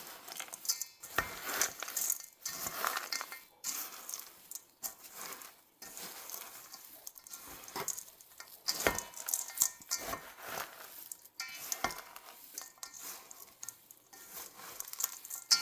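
Granola ingredients are tossed and stirred with coconut oil in a bowl, producing close, irregular rustling patters and light clinks that come in uneven bursts with short pauses.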